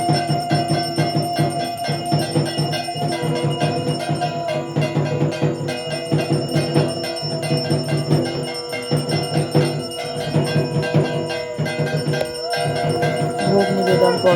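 A bell rings steadily during Annapurna puja worship at a home shrine, rapid repeated chiming that carries on without pause amid a loud, busy room.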